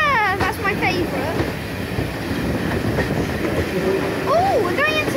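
A train of goods wagons rolls into Minehead station with a steady, loud rumble and clatter. Wheels squeal in high whines at the start and again near the end, and voices murmur in the background.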